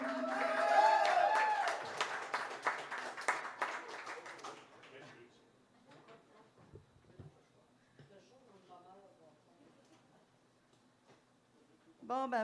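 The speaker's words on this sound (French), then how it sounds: "On l'applaudit." Audience applause at a poetry reading event breaks out loud and dense over the opening four seconds, mixed with a voice, then dies away into quieter talk and scattered sounds.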